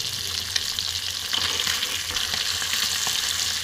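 Puti fish frying in oil in a wok make a steady, close, hissing sizzle with faint crackles and occasional light spatters throughout, unbroken and with no one talking.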